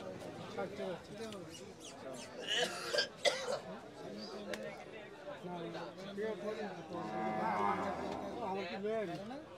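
Thin cattle moo low and close among a busy crowd at Chandina cattle market in Comilla, Bangladesh, with people talking and an occasional cough.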